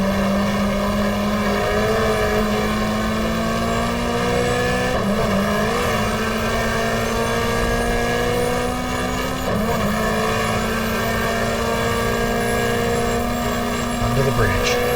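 A Benson and Hedges BMW race car engine from the racing game GTR2 drones at steady high revs on a 1994 Australian Manufacturers Championship race at Lakeside, with small pitch shifts between gears while a commentator's voice runs over it.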